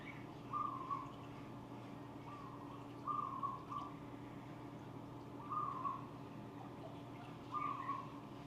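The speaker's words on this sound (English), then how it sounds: "It's a zebra dove or something like that." Soft cooing zebra dove calls repeat four times at even intervals, each a short trilling phrase, moderately distant over a faint steady background hum, in Moorea, Tahiti.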